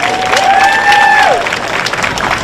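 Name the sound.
audience applause at a livestock show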